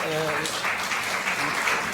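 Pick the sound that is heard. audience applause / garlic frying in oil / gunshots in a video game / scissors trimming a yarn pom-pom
audience applause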